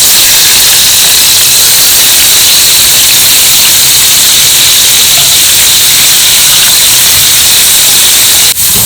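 Paneer cubes fry in hot oil in a pan with a loud, close, unbroken hiss that holds steady throughout.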